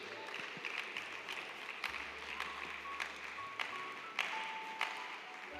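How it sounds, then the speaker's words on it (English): Faint, scattered hand clapping from an audience at an indoor career fair, a few sparse claps at a time under a low background hum. "let's keep clapping for her"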